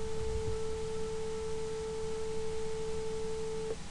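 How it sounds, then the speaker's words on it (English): A steady pure sine tone at 441 hertz holds at constant loudness for about four seconds, alone over faint background hiss. "Now I'm going to play one at 441 hertz."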